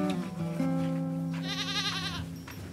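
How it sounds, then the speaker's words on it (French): Goats and sheep bleating while grazing, herded by women and children in the Ennedi region of the Sahara; several drawn-out, wavering bleats sound close over steady outdoor noise. "femmes et enfants font paître chèvres et moutons"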